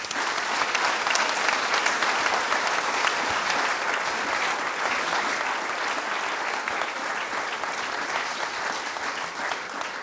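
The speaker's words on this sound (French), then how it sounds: "je vous demande de les applaudir tous très chaleureusement" A large audience at a flour mill's jubilee celebration applauds warmly, with steady, dense clapping that holds at an even level for about ten seconds and no voices on top.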